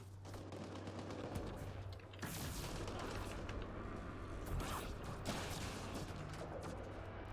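Sustained rapid weapon fire from a sci-fi shooter battle in Mass Effect Andromeda, dense bursts of gunshots continuing for several seconds over a steady low hum, with louder volleys partway through.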